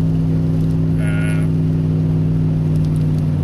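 Steady low engine rumble from inside a vehicle with a continuous hum, and a brief muffled passing sound in the background.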